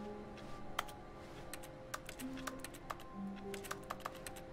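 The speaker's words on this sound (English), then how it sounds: "Why when I click it makes a computer typing sound?" Computer keyboard typing clatter plays in The Stanley Parable as an office object is clicked: quick bursts of soft, close key taps, fairly quiet and steady over a faint hum.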